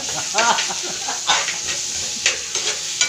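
Garlic, onion and ginger sauté in hot oil for mussel adobo in coconut milk, a steady close sizzle broken by repeated scraping stir strokes, with faint voice sounds at the start.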